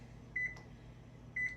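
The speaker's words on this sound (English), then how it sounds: "I'm gonna set my timer" An oven timer is being set, giving two short, clear electronic beeps about a second apart over a low kitchen hum.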